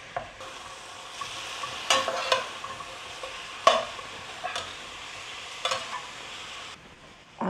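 Sausage being broken into crumbles in a frying pan for sausage gravy: a steady sizzle with repeated sharp scraping and clinking strokes of a utensil against the pan, no voices.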